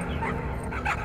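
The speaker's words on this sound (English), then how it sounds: "Oh, there's our doggies." Dogs in the video game Trover Saves the Universe give a short, close whimpering yip and bark burst lasting about a second.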